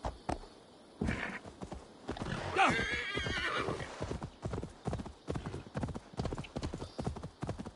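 A horse gallops at full speed over a hill in Assassin's Creed Valhalla, its hooves pounding in a quick, loud, rhythmic beat, with a snort or whinny breaking through partway along.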